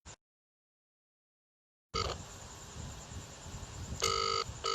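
Phone call ringing out unanswered, a short tone, a pause of silence, then a steady ringback tone with repeated electronic pulses and no one picking up.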